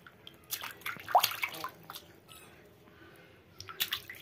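A small child named Swami splashes and plays with water in a large bathtub at home, giving irregular nearby drips and sloshes in short bursts, with adult voices talking between them.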